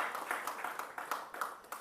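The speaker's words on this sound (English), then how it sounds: "Give him a hand of applause." Church congregation applause after a sermon: a short burst of scattered hand claps from a modest crowd, steady and fairly close, fading out within a couple of seconds.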